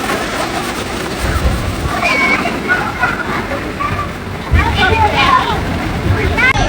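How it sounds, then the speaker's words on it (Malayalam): At the Legoland water park, a giant bucket tips and water pours and splashes continuously in heavy surges, with people chattering and shouting throughout. "ഇവിടെ നല്ലൊരു പടുകൂറ്റൻ ഭീമൻ ബക്കറ്റ് ഉണ്ട്. ഇതില് വെള്ളം നിറഞ്ഞ് ദേഹത്ത് വീണതിന് ശേഷം"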